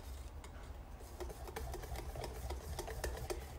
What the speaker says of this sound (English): notice I'm just using a whisk rather than a mixer